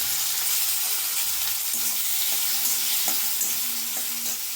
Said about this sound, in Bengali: এবার দিয়ে দেবো সামান্য পেঁয়াজ কুচি, আর এই যে একটা টমেটো কেটে নিয়েছি, এই টমেটোটাকে দিয়ে দেবো